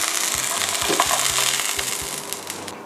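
Maguro tuna sears in a hot pan, a steady close sizzle with low, rhythmic knocks and scraping from the pan running through the whole stretch.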